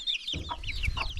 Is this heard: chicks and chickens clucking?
yes